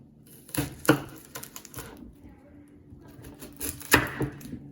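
Onions being sliced in half with a mediocre kitchen knife on a board, giving a few sharp, separate chopping knocks with quiet gaps between them.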